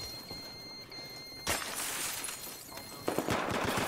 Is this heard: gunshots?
yes